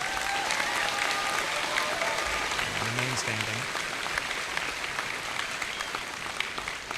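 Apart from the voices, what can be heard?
audience applause at a graduation ceremony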